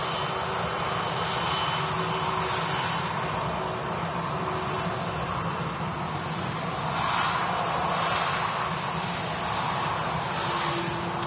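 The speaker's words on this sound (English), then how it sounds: "We do have arguably the loudest airliner at Manchester today, heading out." Heavy, continuous roar of a loud airliner departing Manchester Airport, a steady engine rumble with a slight swell midway and no talk over it.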